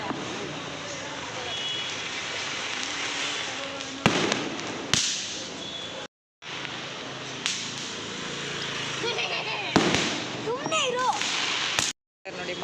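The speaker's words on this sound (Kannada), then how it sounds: "ನೋಡಿ ಮಕ್ಕಳೆಲ್ಲ ಸೇರಿ ಪಟಾಕಿ ಹೊಡಿತಾ ಇದ್ದಾರೆ." Children set off firecrackers for Deepavali, with sharp cracks and bangs plus fizzing and whistling bursts, some loud and close, mixed with background chatter and brief silent gaps.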